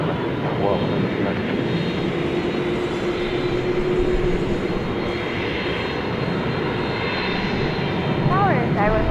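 Airliner engines rumble and roar at DFW Airport, a broad sustained drone that stays near and loud throughout, with radio voices and talk over it.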